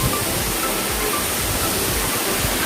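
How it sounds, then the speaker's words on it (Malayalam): Marmala waterfall in Vagamon roars as a steady, dense rush of falling water over rocks, loud and close, with no voices over it. "ഇതാണ് മർമല വെള്ളച്ചാട്ടം എന്നാണ് വെള്ളച്ചാട്ടം."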